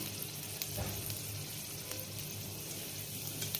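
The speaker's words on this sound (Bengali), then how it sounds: "ওই তেলে মানে ঘিতে তেজপাতা দিলাম গোটা শুকনো লঙ্কা দিলাম" Bay leaves and whole dried chillies sizzling in hot ghee in a pan, a steady close crackling fry with small pops throughout.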